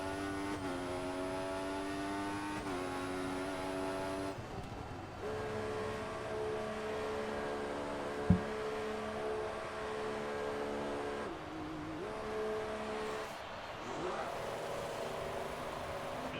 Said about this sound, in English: Two cars have gone by.